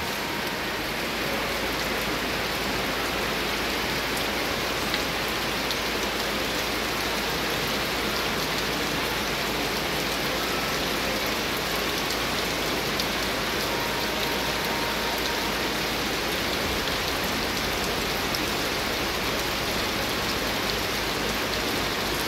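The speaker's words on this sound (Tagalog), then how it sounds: "Ulan." Heavy rain pours down continuously in the Philippines, a dense, loud hiss of drops hammering surfaces that stays steady and unbroken throughout, with no voices.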